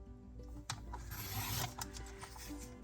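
Paper being trimmed for junk journal pockets, a close, steady rasping and scraping across the sheet with a few sharp clicks, heard alone without talk.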